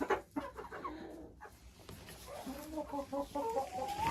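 Hen clucking after laying her first egg in straw-lined farm housing, a series of close, rhythmic clucks that build into a drawn-out, rising cackle toward the end.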